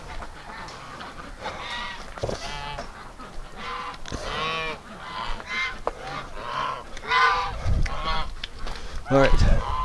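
Geese honk repeatedly at a farm, with ducks around the pen, loud, close and overlapping in bursts, growing busier and louder toward the end.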